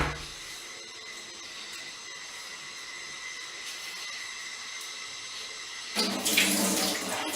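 A kitchen tap runs steadily while paneer cubes are washed, a constant close hiss of flowing water that swells louder and brighter in the final second or so as the stream hits the sink; no voices.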